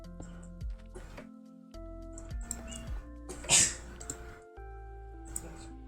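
A sneeze bursts out once, short and sharp, amid a casual family Minecraft play session, with a game soundtrack humming underneath and voices chatting around it.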